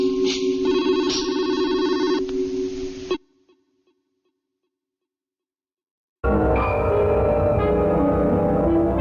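An old-style telephone bell rings loudly in a radio drama, a steady trilling ring for about three seconds, then silence, then ringing resumes with other sounds mixed in.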